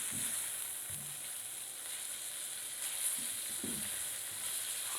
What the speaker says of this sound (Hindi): चमचा हिलाकर फ्राई करते रहना